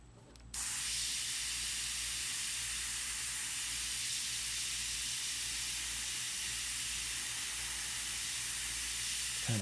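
An airbrush sprays paint in one continuous loud, steady hiss that starts abruptly after a brief pause and runs unbroken to the end.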